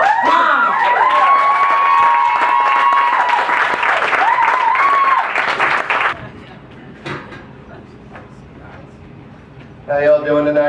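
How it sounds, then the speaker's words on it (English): A comedy-club audience bursts into loud, dense applause and cheering for a comedian, with musical tones ringing over the crowd. The noise holds for several seconds, then drops away abruptly to a quieter room, with a brief burst of noise near the end. "give a thunderous applause for the one and only Mike fucking Brown"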